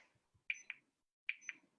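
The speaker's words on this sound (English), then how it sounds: "Press and hold the power button till you hear a beep" A handheld electrical stimulation device on the upper arm beeps as its power button is held: two pairs of short, high electronic beeps, close and clear in a quiet room.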